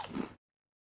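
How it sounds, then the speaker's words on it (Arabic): A single crunchy bite into lemon-flavoured potato chips, close and brief, lasting under half a second before silence. "ناخد قطمة من الشيبسي، ناخد واحدة كمان عشان بس اتأكد من الطعم"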